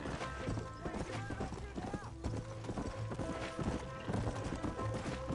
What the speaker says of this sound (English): My horse can't keep up.